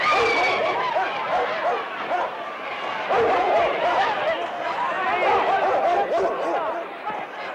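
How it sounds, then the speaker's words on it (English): Police dogs bark repeatedly amid the noisy chatter of a crowd of marchers in Birmingham, the barks mixed in with overlapping voices. "brought out the city's police dogs"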